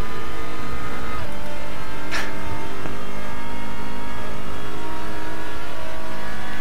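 A TCR race car in RaceRoom Racing Experience held at full throttle at Motorland Aragon, its engine droning steadily and loudly with a brief gear-shift blip partway through.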